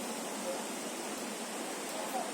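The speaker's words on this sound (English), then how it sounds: "Just listening to the water here, the river" A river flowing at a mountain site near Changbai Mountain on the North Korean border. The rush of water is steady, broadband and constant, close by and moderately loud, with no talk over it.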